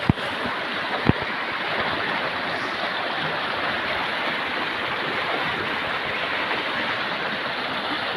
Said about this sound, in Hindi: पानी बहुत तेज़ी से बहता है